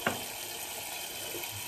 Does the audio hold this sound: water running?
yes